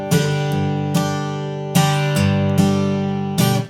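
Acoustic guitar strummed in a steady rhythm, each bar opening with a low bass note before the chord rings out, close and clear with no talking.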